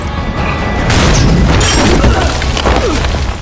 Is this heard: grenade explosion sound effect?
yes